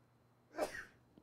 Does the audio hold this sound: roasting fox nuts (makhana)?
no